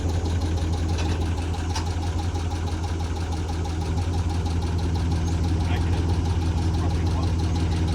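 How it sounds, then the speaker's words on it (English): A rebuilt Dodge Durango Hemi V8 idles with a rapid, even ticking over its low rumble, close and steady throughout while people talk faintly nearby. "The typical Hemi Tick"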